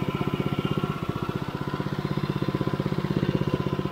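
A pressure washer's small gasoline engine idles steadily at low revs during a house wash, a close, even, rapid chugging pulse with no talk over it.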